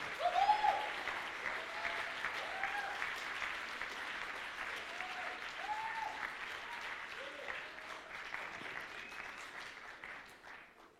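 An audience at the Swiss Fantasy Show cosplay contest applauds a cosplayer with sustained clapping in a large hall, fairly distant and soft, with a few voices and cheers mixed in and the clapping fading toward the end.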